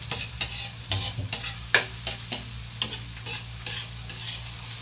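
Tilapia frying in a pan while being stirred, with a steady sizzle under regular scraping stir strokes, close and moderately loud, with no talking.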